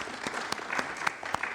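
A church congregation applauds during a service, a brief burst of steady clapping from many hands filling the room.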